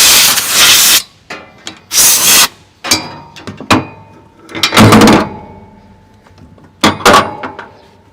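Compressed air blasts blowing debris off a DEF filter housing on a Tier 4 Axial-Flow combine, several loud hissing bursts of about a second each with short gaps, mixed with small clicks and tool clatter, no talking.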